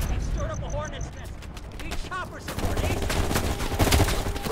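Bursts of automatic rifle fire and scattered gunshots in a Call of Duty: Black Ops Cold War firefight set in Vietnam, dense and loud, layered over game noise and voices.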